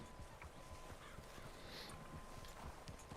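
Horse hooves clip-clop steadily in Red Dead Redemption 2, a quiet, continuous rhythm of footfalls at a walking pace with faint game ambience behind them.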